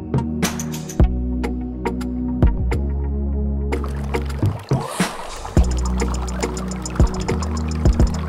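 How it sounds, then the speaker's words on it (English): Coloured beads poured into pool water in a test of a home-built pool-cleaning robot, giving a rush of pouring and splashing over low background noise, with several sharp knocks before and after. "I'm going to add some of these coloured beads."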